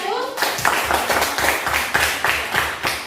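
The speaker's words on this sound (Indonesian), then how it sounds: "kita berikan tepuk tangan untuk kelompok 1." A classroom group of students claps in a quick, steady rhythm after a brief moment of voices, with loud, close hand claps continuing throughout.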